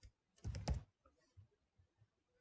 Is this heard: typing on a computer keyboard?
yes